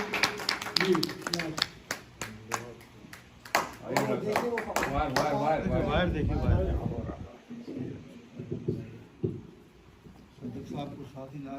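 Audience at a mushaira clapping in scattered, sharp claps for several seconds before a voice takes over and speaks at length over fading claps.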